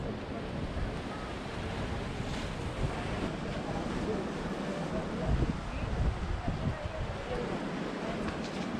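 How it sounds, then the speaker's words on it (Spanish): Ocean waves break and surge against rocks on the beach at Barra da Lagoa, Florianópolis, Brazil, a steady, loud wash of surf with wind buffeting the microphone and faint voices in the background. "lo rompen las olas acá"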